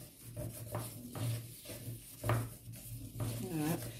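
Flour and spices for KFC-style chicken are mixed in a bowl, giving soft, quiet scrapes and taps of a utensil against the bowl, with a voice speaking over the mixing.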